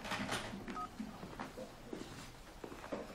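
A telephone is dialed to call someone: a short series of electronic keypad tones sounds quietly at irregular intervals over a faint hiss, with no talking.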